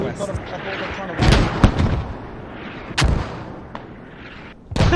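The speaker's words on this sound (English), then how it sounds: "Lots of mortars dropping into BoB." Mortar rounds explode one after another in a Squad-style military video game, firing several heavy booming thumps and sharp cracks at uneven intervals amid continuous battlefield noise, with people talking throughout.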